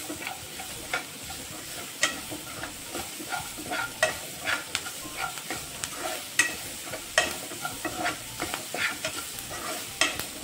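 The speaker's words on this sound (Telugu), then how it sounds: "ఇవి కొంచెం ఫ్రై అవ్వాలండి" Pieces of raw banana sizzle steadily in hot oil in a pan while a spoon stirs them, scraping and tapping the pan at irregular intervals close by.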